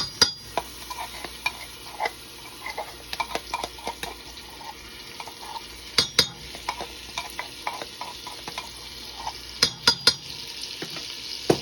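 Garlic cooking in butter in a pan gives a soft, steady sizzle broken by frequent scrapes and taps of a stirring utensil against the pan, heard up close with no talking.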